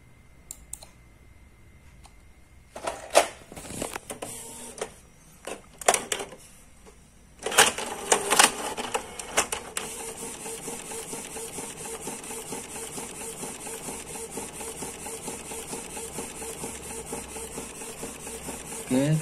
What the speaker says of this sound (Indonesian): Lalu kita print ya, sama seperti tadi, sudah langsung kita print.